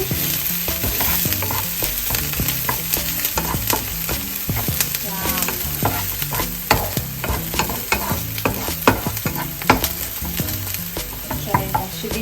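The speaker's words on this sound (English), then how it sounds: "fry them until they become a little bit brown" Food frying in a pan until browned, a loud continuous sizzle with frequent crackles and spits, alongside occasional stirring scrapes, close up and with no talking.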